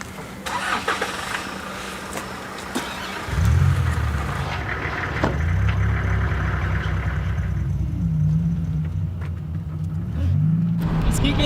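A car driving on a dangerous frontline road in Kostiantynivka, its engine starting to rumble and then humming steadily with rising and falling revs, loud and close, with bursts of noise early on.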